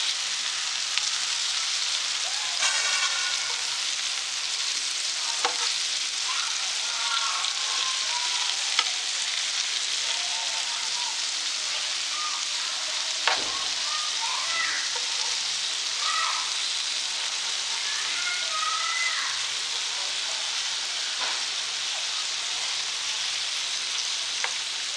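Chicken liver pieces frying in a pan over medium heat, a steady dense sizzle and crackle throughout, close and continuous with a few scraping stirs and no speech.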